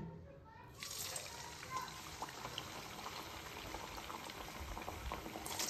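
A steady, dense crackling sizzle of raw banana flour vadas deep frying in hot oil in a kadhai starts after a brief pause and continues evenly throughout, close and fairly loud.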